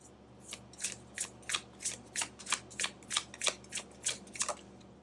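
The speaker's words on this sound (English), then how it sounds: "just feel the need for one more shuffle" Tarot cards being shuffled by hand: a steady run of about a dozen crisp riffling bursts, close and fairly quiet, with no talking over them.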